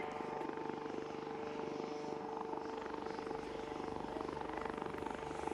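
An Indian Air Force Light Utility Helicopter flies a display at the Aero India 2021 air show, its steady rotor chop and turbine whine sustained and moderately distant throughout.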